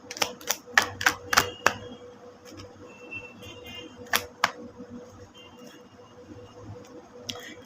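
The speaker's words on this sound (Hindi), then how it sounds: "पहले मैं 3 कार्ड्स लूँगी टैरट से" Three tarot cards are drawn from a deck, giving a quick run of sharp, crisp card snaps and flicks up close. A couple more clicks follow after a quiet pause.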